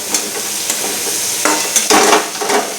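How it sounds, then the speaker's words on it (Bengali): Bitter gourd and potato frying in a wok, a close, loud sizzle broken by scraping stirs and bursts of crackle, no voices. "এই যে উচ্ছে দিয়ে আলু দিয়ে ভাজা"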